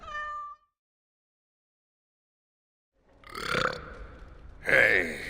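A cat meows twice in Dragon Age: Origins, short raspy calls a second apart after a brief tonal game sound and a long silence, close and fairly loud.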